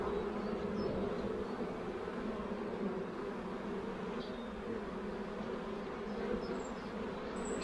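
Honeybees drone steadily around an open hive during a spring inspection, a dense, continuous close buzz with occasional louder individual bees passing near.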